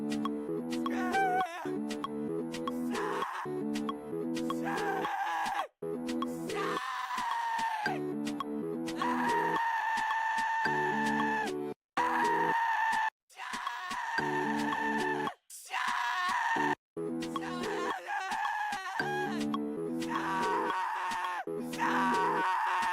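A man screams and strains his voice in sustained, rough bursts over a loud backing track while recording vocals alone in a home studio, with a few brief gaps between phrases.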